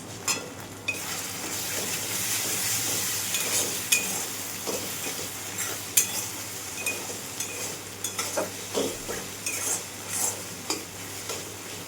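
Spice paste for a fish kofta curry sautés in oil, a steady close sizzle broken by frequent scraping stirs and sharp clinks of a spoon on the pan, with no voices throughout.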